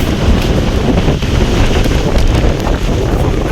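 Strong wind buffeting the microphone at Korulde lake in the Georgian mountains, a loud continuous rumbling roar with gusty surges and no voices.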